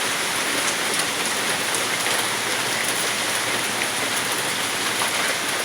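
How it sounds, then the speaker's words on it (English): Heavy rain with hail pours down during a Vancouver thunderstorm, a dense, steady roar of drops on surfaces that never lets up, loud and close, with no voices. "Look what is happening in Vancouver. Thunderstorm with hail, huge."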